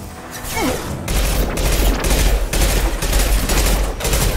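Sniper rifle headshot fire in a video game comes as a dense barrage of loud booming shots and crashing impacts, continuous and heavy throughout with no voices.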